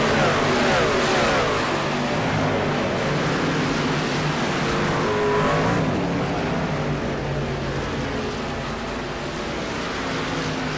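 NASCAR-style race trucks in a truck series race at Chicagoland, running past and heading into pit lane, a constant loud engine roar that swells and fades slightly over the whole stretch, with no voices.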